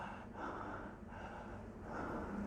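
A man imitates the open-mouthed breathing of someone with a blocked nose from allergic rhinitis, producing continuous loud, raspy, snorting breaths close up.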